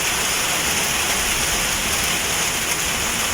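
Rain pours steadily on a leaky metal roof at a poultry range, a dense, even hiss of drops with no breaks and no voices.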